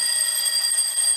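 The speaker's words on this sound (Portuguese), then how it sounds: "mas ele é um despertador mesmo. Eu até vos posso mostrar aqui." A small IKEA alarm clock in a bedroom rings with a soft, steady, high-pitched electronic tone, continuous and fairly close, with no talk over it.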